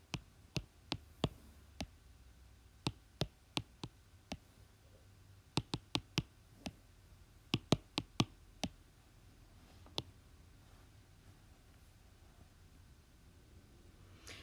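Calculator keypad buttons pressed while entering numeric data, sharp plastic clicks in uneven bursts, some rapid runs and isolated single presses, close and crisp over a quiet room hiss with no talking.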